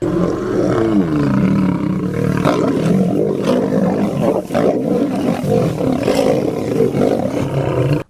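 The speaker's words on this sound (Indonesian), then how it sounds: "Wih, ini ada hewan singa." A toy lion plays a loud recorded roar, a long growling rumble with rough rising and falling bursts that fills the whole stretch without pause.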